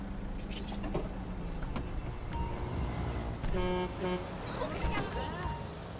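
A car horn honks in GTA 5 traffic, several short toots sounding amid engine hum and street noise while voices talk over it.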